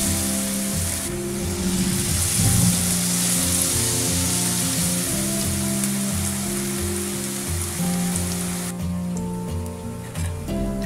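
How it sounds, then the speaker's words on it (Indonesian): Batter-coated spinach leaves frying in hot oil for crispy spinach chips, a continuous loud sizzle with a background music bed, no voices. "Lalu ini kita ambil salah satu daun bayamnya, kita baluri dengan adonan setiap bagiannya ya, atas dan bawahnya. Lalu kita langsung goreng aja."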